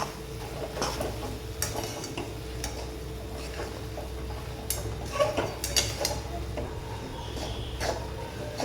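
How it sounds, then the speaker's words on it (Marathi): Modak filling of jaggery and ghee being stirred in a pan, with light scraping and clinking of a spatula against metal in irregular taps, fairly quiet and close with no voice. "त्याच्यात आपण हे सारण घालून घेऊया आणि 2 मिनिट आपण हे परतून घ्यायचं"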